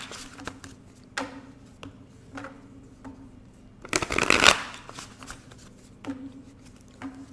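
Playing cards are riffled in one quick, loud burst, with softer taps and handling noises before and after.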